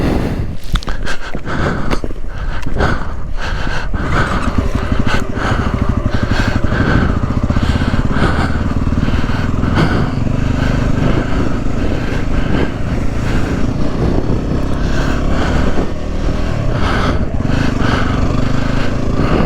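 A motorcycle engine roars loud and close throughout as the bike churns through deep, sloppy snow, its note surging and straining steadily for the whole stretch.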